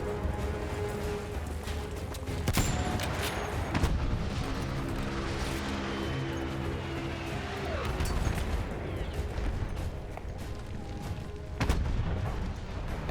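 Battlefield 1 gunfire from a prone-fired gun cracks in scattered sharp shots over a dense, constant din of battle noise, with louder bursts standing out now and then.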